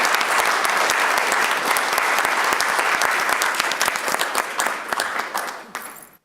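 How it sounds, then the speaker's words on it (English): Steady, full applause from the audience at a school board meeting honoring a high school chamber choir, dense and sustained for about five seconds before tapering off at the end. "Let's give them all another round of applause."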